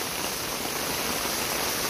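Heavy rain pours steadily in Nepal with floodwater rushing along, a dense, continuous hiss that stays loud and close throughout, with no voices heard.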